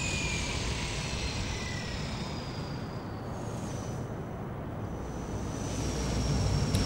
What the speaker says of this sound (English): Planes are landing.